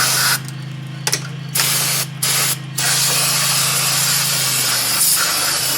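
Brake cleaner sprayed onto brake parts during a rear brake pad and rotor job on a 2006 Honda Ridgeline: several loud hissing bursts of spray, some short and one long and sustained, close by, over a steady machine hum, with no talking.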